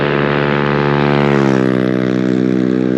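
Honda Navi small motorcycle engine fitted with a Yoshimura exhaust and spark arrestor, idling and revving in a steady, loud drone with a pitch that shifts slightly midway, close and alone.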